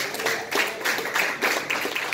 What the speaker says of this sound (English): I'll give the Lord a hand clap,